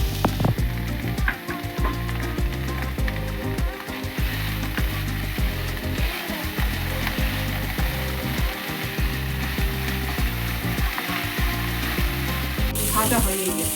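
Chopped banana flower fries in a pan with a continuous crackling, hissing sizzle and an uneven rhythmic scraping or stirring, heard close and steady for about fourteen seconds.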